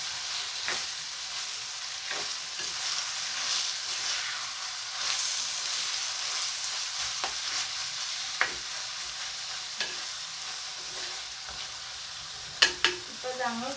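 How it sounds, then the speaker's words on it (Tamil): Squid curry stirred in a hot pan, a continuous sizzle and fry hiss with intermittent spoon scrapes and clacks against the pan, a couple of louder knocks near the end. "இது நல்ல வடிவாக கிளறி விட்டுட்டு"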